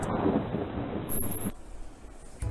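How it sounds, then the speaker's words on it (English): A thunderstorm sound effect in a read-along children's story brings a loud rumble of thunder with rain and wind noise, then a sharp crack and fading rumble, with no voice over it. "There was a storm."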